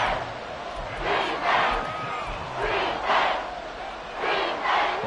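Stadium crowd roar from a Madden NFL football video game, Cardinals against Texans, swelling in repeated waves of loud cheering and shouting with a dull rumble underneath.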